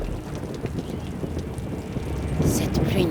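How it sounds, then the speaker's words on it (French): Heavy rain pours down in a steady, dense roar with a low rumbling wash, continuous and loud throughout, swelling into a brighter hiss near the end. "Cette pluie n'en finit pas."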